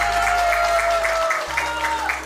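Wedding guests clap at a Christian wedding in Sikkim, a quick, even rhythm of claps sounding over sustained musical tones in the hall.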